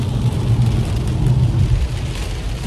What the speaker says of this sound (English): It's so loud, the rain.